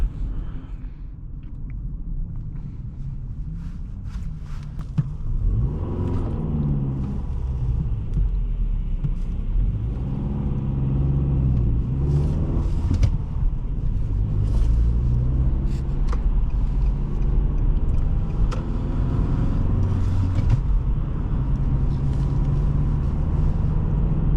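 A 2008 Nissan Altima 2.5 S sedan with a six-speed manual gearbox picks up speed on the road, its engine a steady low rumble that builds gently under continuous road and tire noise, heard from inside the cabin.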